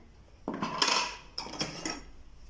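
Dry cake batter ingredients with baking powder and bicarbonate of soda being mixed with a spoon in a bowl, two bursts of scraping and clinking against the bowl, close and clear, with no voices.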